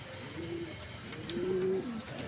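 A male pigeon cooing nearby, two soft throaty coos with a low rolling tone, over faint background noise.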